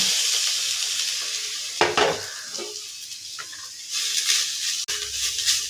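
Grated potato frying in refined oil and ghee in a wok: a steady close hiss and sizzle with occasional scraping and stirring clatter of a utensil against the pan, with no voices.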